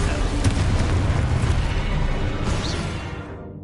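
A Confringo spell explosion in Hogwarts Legacy rolls out as a loud, sustained booming rumble that fades away toward the end.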